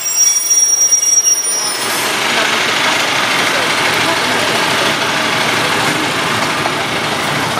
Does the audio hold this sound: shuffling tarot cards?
no